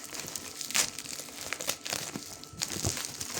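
Close, continuous crinkling of a plastic bag, with irregular louder crackles scattered through the handling and no voices.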